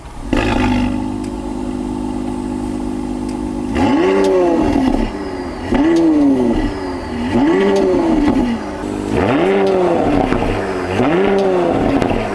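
A Porsche Cayenne with the sport exhaust option idles with a steady low drone, then is revved five times in a regular rhythm, each blip climbing and falling back, loud and close with no talking.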